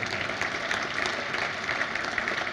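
Applause from a conference audience during a software talk at AngularConnect 2017: a steady, dense wash of clapping for a couple of seconds, moderately loud with no clear gaps.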